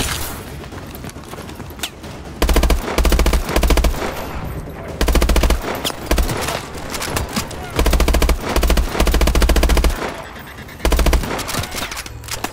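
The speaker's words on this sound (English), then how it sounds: "Really? I shoot this guy like half a dozen times." Gunfire from a weapon in Call of Duty: Advanced Warfare on PC comes in loud, rapid automatic bursts with short gaps between them, sharp and close, with game sounds underneath.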